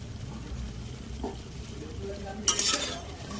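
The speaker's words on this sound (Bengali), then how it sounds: "বড়াগুলো ঠিক এইভাবে লাল করে ভেজে নিতে হবে।" Steady low sizzle of lentil fritters frying in oil until reddish-brown, with a brief clatter of a spoon or utensil partway through.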